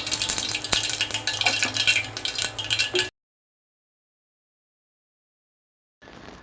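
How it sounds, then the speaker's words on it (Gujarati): Mustard seeds and asafoetida sizzle and crackle in hot oil in a cooker, a loud close hiss with sharp popping clicks for about three seconds, then silence before the sizzle briefly returns. "રાઈ ફૂટી જાય એટલે તેમાં હિંગ ઉમેરી દઈશું."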